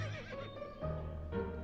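Horse neighing in the pixel-art video game To The Moon, a clear whinny with tonal, wavering calls rising and falling across the moment, moderately loud and unaccompanied by talk.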